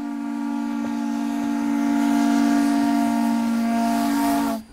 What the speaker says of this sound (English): there's nothing regular about being able to step aboard an old steam train